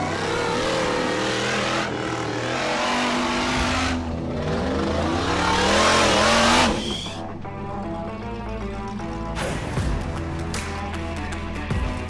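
A supercharged Cadillac engine in a CJ Jeep build revs hard and loud, climbing through rising pitch before dropping back to a rough, lumpy idle with a few sharp blips.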